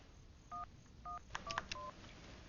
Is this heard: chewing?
no